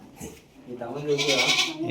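A male goat, its four legs tied, gives a loud wavering bleat in the second half, with people talking just before and around it.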